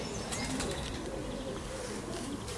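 Pigeons coo at close range in a racing-pigeon loft, with soft low calls amid rustling and some wing flutter.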